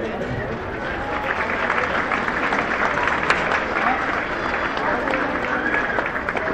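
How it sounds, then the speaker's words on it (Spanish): An audience applauds municipal authorities, the 2012-2015 town council of a Guanajuato municipality, at an Independence Day show; dense steady clapping runs throughout at an even level, with some voices mixed in. "para quienes les pedimos un fuerte aplauso"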